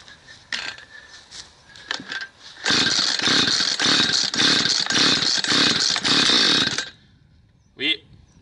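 A chainsaw with a carburetor flooded with fuel is pull-started: a few short sputtering bursts, then the engine catches and roars loudly and unevenly for several seconds before cutting out, followed by a brief rasp.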